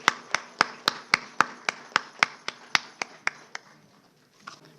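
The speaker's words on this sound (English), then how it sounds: "A round of applause, please" An audience at an NCC Day celebration claps together in a steady, even rhythm, about fifteen crisp claps that thin out and fade at the end.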